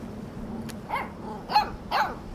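A dog barks in the video game Life is Strange 2 during a game of fetch, a quiet whimper followed by three short, sharp barks spaced about half a second apart.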